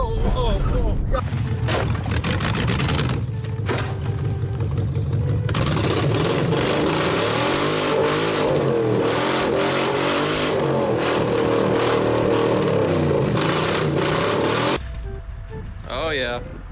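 A BMW car engine revs hard close by under excited talk, a rough idle rising into a long sustained high-revving roar that holds for several seconds before cutting back, with voices throughout.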